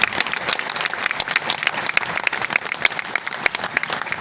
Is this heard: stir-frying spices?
no